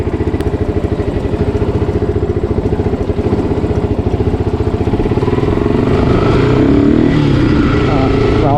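Yamaha R15 V2 motorcycle fitted with a K&N air filter and modified exhaust, engine pulsing steadily close by and then revving up toward the end, loud and continuous throughout.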